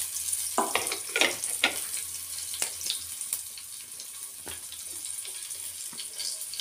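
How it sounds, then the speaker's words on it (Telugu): Onion fries in a pan with a crackling sizzle, the busy spitting bursts early on settling into a softer, steady frying hiss. "ఇప్పుడు దీంట్లో మనం ఒక ఆనియన్ వేసుకున్నాము"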